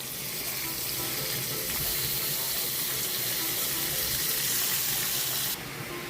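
Ground meat and garlic sizzle loudly and without a break in a hot pan, a dense crackling hiss that stays even throughout and drops slightly right at the end.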